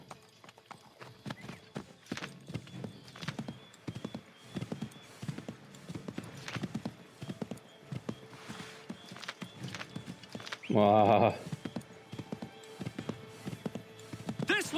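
Horse hooves clip-clopping at a gallop in Assassin's Creed III during Paul Revere's midnight ride, a steady rhythmic pounding with a whinny and talk over it, plus a brief louder burst near the end.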